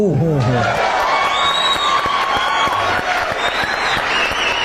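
An audience claps in a sharp, rhythmic beat under a loud singing voice, the claps steady and close throughout.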